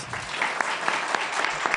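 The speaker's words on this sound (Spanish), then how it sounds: "Les pido que recibamos con un aplauso" Steady applause from a seminar audience welcoming a speaker, a dense wash of clapping that holds evenly throughout with no voices over it.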